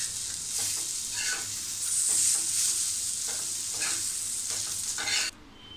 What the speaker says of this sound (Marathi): त्यात आपण आता एक हा टॅमॅटो टाकूया, तोही छान परतून घेऊया.